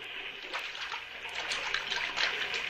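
Drinking water pours steadily into a vessel as a radio drama effect, making a close, continuous trickling splash with slight surges.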